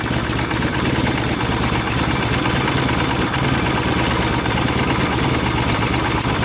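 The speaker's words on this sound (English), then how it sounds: "This bike's already running smoother, so I'm going to stick to the points." An old motorcycle fitted with points ignition idles steadily and evenly, a continuous close engine drone with a faint ticking rhythm and no speech over it.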